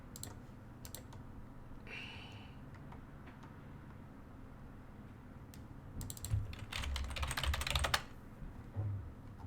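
A computer keyboard typed on in short bursts, with quick clicky keystrokes that start sparse, then build into a dense, loud flurry and stop, close and without talk.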